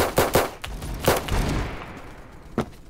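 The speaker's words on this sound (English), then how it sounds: "I missed all of my shots." Gunfire from a BFG 50 in a first-person shooter video game: several sharp, loud, close shots fired in an uneven rhythm, with fading echoes between them and no talk.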